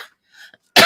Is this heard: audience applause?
no